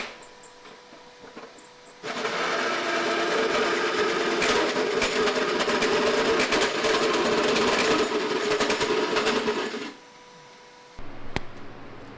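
Hole saw drilling through the inner fender well of a Ferrari F40 kit car, a loud, steady grinding whir that lasts about eight seconds and then stops, with quieter shop sounds before and after.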